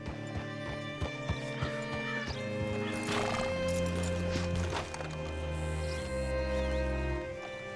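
Horse in Red Dead Redemption 2 neighs loudly up close amid steady clip-clop hoofbeats, with a drawn-out whinny followed by lower snorting sounds.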